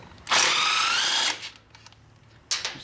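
Power tool whirring for about a second while removing a muffler mounting bolt on a 2012 Yamaha Zuma scooter, followed by faint clicks and a short second burst near the end.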